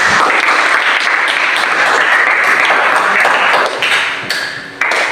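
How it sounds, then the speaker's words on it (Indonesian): A classroom full of students applauds a student group during a teaching-practice lesson, with steady, dense clapping throughout that fades slightly near the end. "Kita beri aplaus untuk kelompok Kanguru."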